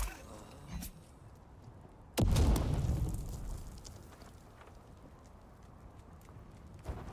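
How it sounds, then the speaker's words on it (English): Grenade explosions in the video game Dune: one loud, sudden boom with a rumbling low tail that fades over a few seconds, set between quieter game noise, with a smaller thump near the end. "Tossing grenades."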